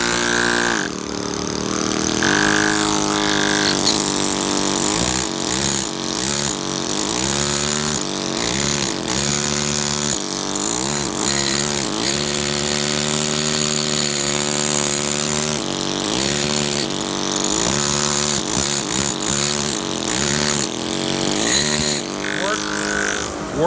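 A 3/4 pneumatic carving hammer with a round chisel wastes off a granite block, chattering continuously and loudly for the whole stretch with a steady compressor-like drone underneath.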